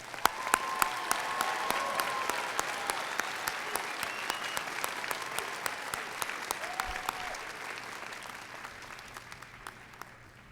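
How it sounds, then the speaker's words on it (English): Sustained applause from a large audience at a university graduation commencement ceremony, steady dense clapping with occasional sharper claps standing out, continuing for the whole stretch and tapering slightly near the end. "Let's give everyone a round of applause."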